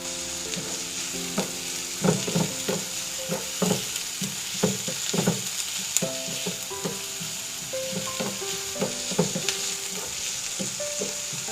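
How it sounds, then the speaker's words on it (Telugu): Onions fry in oil in a pan for a chicken fry, a continuous sizzle broken by repeated knocks and scrapes of stirring against the pan, close and moderately loud. "ఆనియన్స్ కూడా వేసి ఫ్రై చేసుకుందాం."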